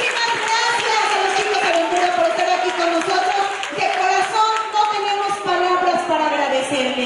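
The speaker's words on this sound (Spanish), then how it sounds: "un aplauso para este gran equipo de trabajo" A crowd applauds at an aid-handout event for earthquake victims in Morelos, with steady clapping and cheering voices holding loud and dense for several seconds.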